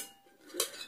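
An aluminum cooking pot with a small perforated rack inside is handled, giving a single faint metallic clink against quiet room noise.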